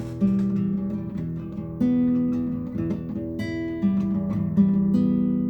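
A guitar plays a repeating low figure of ringing, bell-like notes, struck in a slow steady rhythm to imitate a church bell tolling.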